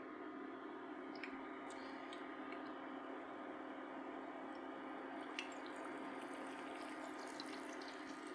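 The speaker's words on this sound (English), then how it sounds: "I'm going to add in the second chicken thigh." A battered chicken thigh fries in hot oil at around 280 degrees, giving a steady, faint sizzling hiss with occasional tiny pops and crackles, close and uninterrupted, with no talking.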